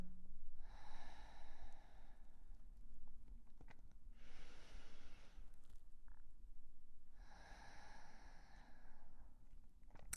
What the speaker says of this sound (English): So inhaling deeply in through the nose. And exhaling to let go.